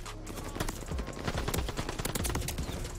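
An MP40 submachine gun fires in the video game Call of Duty Vanguard, a dense, rapid rattle of shots that runs without pause for about three seconds over busy in-game background noise.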